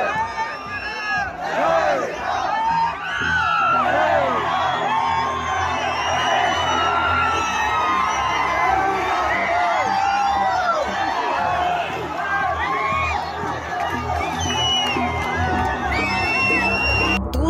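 Crowd of students outdoors in Karnataka cheering and shouting after a saffron flag goes up on a pole, a loud, dense mass of excited voices and whoops sustained throughout.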